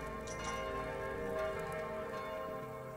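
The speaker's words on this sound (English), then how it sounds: "And the bell tolls for the new day." A bell in the video game Kingdom tolls to mark a new day, a soft, resonant ringing with a lingering hum beneath quiet game music.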